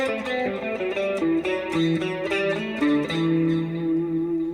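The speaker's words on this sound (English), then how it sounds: "I love playing a nice clean chord and getting a shimmery warble with this" A Suhr Pro Series M8 electric guitar plays clean chords with a shimmery tremolo warble, the notes ringing out in sequence with pitch wavering, heard alone and fairly close.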